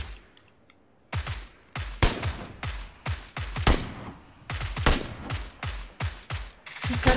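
SKS rifle firing in PUBG on Xbox One: a quiet lull, then a long run of loud, closely spaced semi-automatic shots in irregular bursts with short gaps, close up and without speech.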